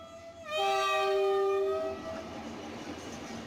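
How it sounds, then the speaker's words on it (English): A train whistle gives one long, loud, steady blast as the train departs, then cuts off and leaves a rumbling rolling hum. "The banshee foghorn blast of the whistle shivered their spines again."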